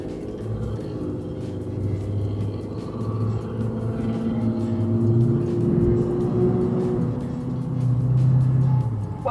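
Steady road traffic rumbles past on a road with a horse carriage, engines droning continuously with gentle swells as vehicles go by, fairly close and without talk.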